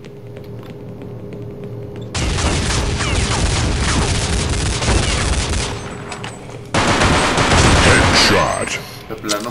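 Dense, loud automatic gunfire in Counter Strike Nexon Zombies erupts in two long sustained volleys separated by a brief break, booming and rattling close up over a low background hum.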